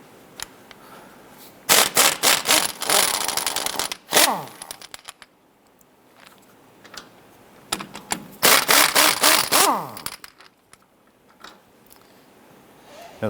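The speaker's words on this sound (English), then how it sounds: "Using a 16mm socket, we're going to go ahead and loosen and remove these bolts." A 16mm socket on a ratchet loosens the power steering pump bolts on a 1997-2006 Jeep Wrangler, producing two loud, close bursts of rapid ratcheting clicks separated by quieter pauses.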